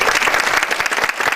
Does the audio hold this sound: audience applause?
yes